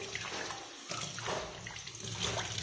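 Used tea leaves rinsed under running water, a steady close splashing and trickling stream that continues throughout with slight surges, moderately quiet.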